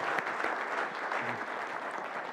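An audience applauds the founder of the AGEF at a TED-style event, steady dense clapping filling the room at moderate loudness without pause.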